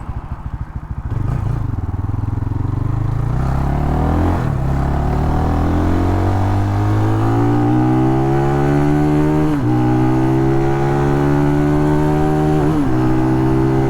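An RPS Cruiser 300 EFI engine revs hard and close, pitch climbing in long sweeps up to the rev limiter, with brief dips and repeated pulls at high revs and no talk.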